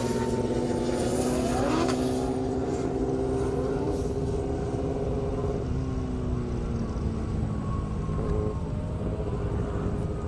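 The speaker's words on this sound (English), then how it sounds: "Todd Durham wasted no time, took off." A drag racing car launching from the starting line at an airport strip, a loud engine roar that climbs in pitch and fades as it pulls away, over a constant crowd and ambient rumble.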